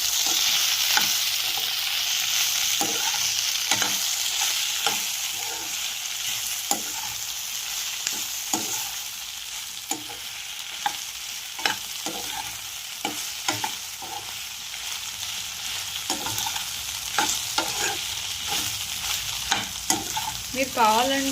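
Okra curry frying in a pan is stirred repeatedly, with quick scraping strokes over a steady sizzle, close and moderately loud.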